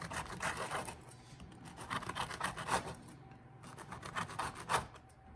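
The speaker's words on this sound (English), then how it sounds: "with a nice serrated knife, you're just going to do slices. A nice sawing action" A serrated knife saws back and forth through crisp almond biscotti, rasping in several rhythmic strokes, close and fairly quiet.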